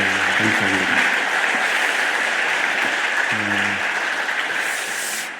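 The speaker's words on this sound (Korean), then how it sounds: "우리 위에서 한번 큰 박수 해주시기 바랍니다." Congregation applauding a worship team at a Sunday church service, a steady broad wash of clapping filling the room throughout, with a few brief low voice fragments poking through.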